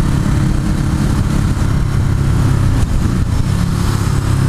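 Ducati Hypermotard 821 motorcycle engine running close by, a constant gruff mechanical drone with uneven throbbing and no voices over it.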